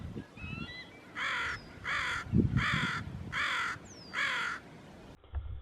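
A crow caws five times in an even rhythm, loud and harsh, with faint bird chirps in the background.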